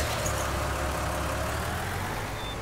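An unmaintained tractor engine in Farming Simulator 19 runs steadily at a loud, constant drone with a low hum and no talk.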